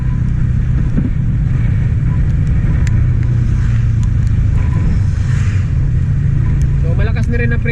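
A Yamaha Sniper 150 motorcycle rides along a road, its engine a steady low drone with constant wind and road rumble close to the microphone, a few brief higher tones near the end.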